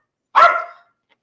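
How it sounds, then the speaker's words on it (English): A single sharp dog bark, close and loud, standing alone in an otherwise quiet space. "These dogs be going crazy, man."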